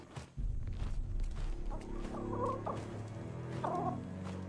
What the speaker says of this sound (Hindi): मुर्गे को लेकर आओ।